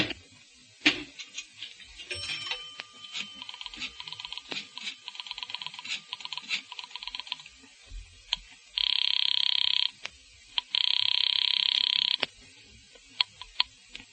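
An old telephone is dialed, with a run of quick mechanical clicks and ticks, then two long electronic ringing tones, and a few sharp clicks at the end, with no one talking.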